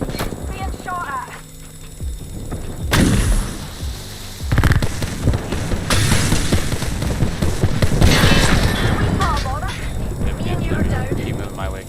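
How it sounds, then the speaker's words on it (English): Rapid bursts of gunfire in an Apex Legends ranked match, mixed with game effects and loud impacts, with a player talking over the action. "Being shot at."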